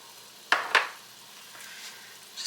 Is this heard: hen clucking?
no